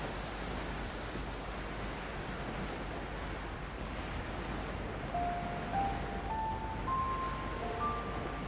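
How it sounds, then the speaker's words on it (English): Steady rain falling in the game Genshin Impact, a dense, even hiss of downpour with faint tonal chimes of game music rising late. "It's raining again?"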